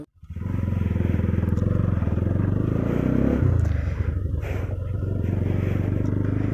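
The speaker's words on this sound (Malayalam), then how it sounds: "ഭയങ്കര ലൗഡാണ് എക്സോസ്" Modified Bajaj NS200 motorcycle with a loud aftermarket exhaust, idling and blipping close by in a steady, deep, throbbing burble that swells briefly mid-way, heard alone without talk.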